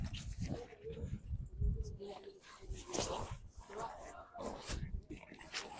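A dog whimpers and gives soft yips near a castle while travelling, its small cries scattered through the passage and partly buried under people talking nearby.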